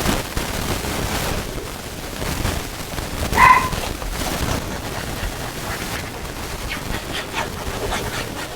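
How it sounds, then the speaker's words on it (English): Dogs playing indoors, with a brief louder yelp or bark burst near the middle over a low, steady background of scuffling and rustling. "Apparently my dogs were not done playing."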